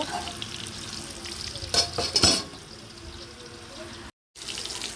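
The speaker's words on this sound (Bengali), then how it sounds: "পটলটাও বসিয়ে দিয়েছি পটলটা ভেজে নেব" Pointed gourd (potol) frying in a pan, a steady soft sizzle with a couple of louder stirring clatters partway through.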